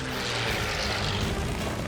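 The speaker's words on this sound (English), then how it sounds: "His Mustang accelerates past 450 miles per hour. Its Merlin engine howls." A P-51 Mustang fighter's Merlin engine howls as the plane accelerates in a dive, a loud, steady propeller roar that fills the whole moment.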